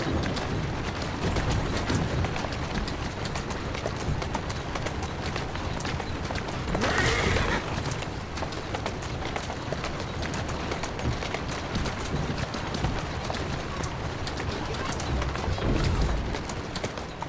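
Horse hooves clip-clop steadily in Assassin's Creed Syndicate as the animal walks along, a continuous dense patter under broadband game ambience with a brief brighter burst midway.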